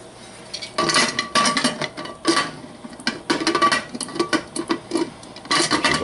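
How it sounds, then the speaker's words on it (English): A lid is fitted and locked onto a pressure cooker while making beef tips and noodles, giving a series of close metallic clanks, scrapes and clicks in irregular bursts with short pauses, no talking. "What we're going to do here is get a top on the pressure cooker."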